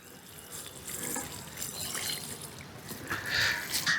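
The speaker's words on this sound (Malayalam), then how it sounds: "ഇനി നമുക്ക് ചെയ്യേണ്ടത് നന്നായിട്ട് നനച്ചു കൊടുക്കണം കേട്ടോ" Water poured over potted adenium plants after fertilising, a faint steady trickle and splash with brighter spattering toward the end.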